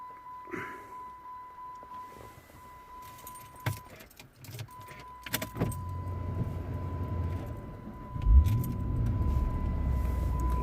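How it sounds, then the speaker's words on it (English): Chrysler SRT8 with its ignition cycled: keys jangle near the start, a steady electronic tone runs through the first half, then clicks and a low engine-bay rumble and hum build up toward the end, without speech. "Let me cycle the ignition then."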